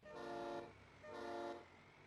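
A truck fitted with a train horn in Farming Simulator 22 blasts two loud, sustained honks in quick succession, each lasting about half a second.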